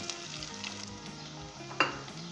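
Onion, ginger and garlic sizzle steadily in a hot pan, a continuous crackling fry with one sharper pop near the end, no voices.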